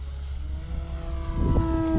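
The electric motor of a Titanium Trainer RC model airplane hums with a steady, even whine that rises slightly in strength partway through, heard alone at moderate level.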